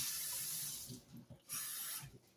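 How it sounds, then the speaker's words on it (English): Water poured from a tap or jug into simple dough ingredients in a home kitchen, a fairly loud splashing flow that comes in bursts with brief pauses and no talk. "Maybe a little bit of more water."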